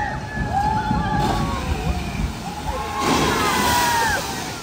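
Water sloshes and splashes continuously, with voices talking over the rushing, churning sound.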